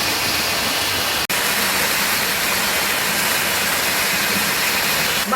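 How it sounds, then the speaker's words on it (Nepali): A waterfall pours down from above onto a bathing spot, making a loud, unbroken rushing roar with one brief cut near the start. "माथिबाट पुरै झर्नाले हाल्दा रहेछ"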